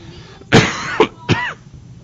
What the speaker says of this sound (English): It's a cough.